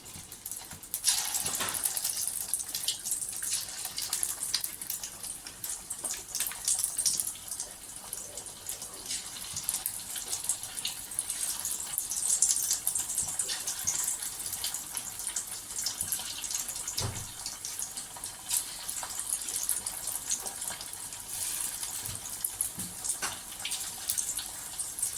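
Chilli chicken pieces deep frying in oil, a steady bright hiss and crackle that runs unbroken for the whole stretch with small pops scattered through it, no talking.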